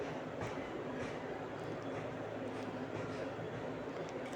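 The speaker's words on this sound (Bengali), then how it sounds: "ট্রেন ছেড়েও দিয়েছে।" A passenger train heard from inside a carriage as it rolls along after leaving the station, a steady low rumble and rattle that stays even throughout.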